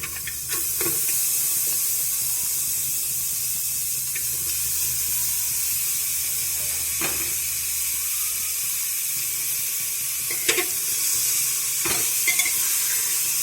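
Steady hiss of raw pork sizzling in a hot pressure cooker, with occasional clinks and scrapes of stirring; no voices.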